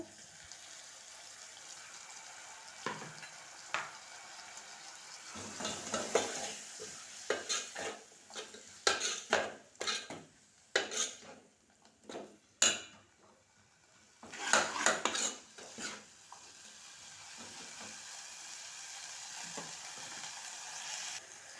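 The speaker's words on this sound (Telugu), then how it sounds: "టమాటో వేస్తున్నానండి చూడండి" Chopped tomatoes added to a hot pan and stirred, giving a steady soft sizzle under bursts of scraping and clattering utensil strokes, with quieter frying hiss between the stirring.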